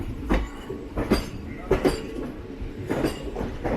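The 12602 Chennai Superfast express runs on its tracks while approaching Chennai Central station, with rhythmic clickety-clack wheel beats over rail joints repeating through a steady rolling rumble, heard from on board.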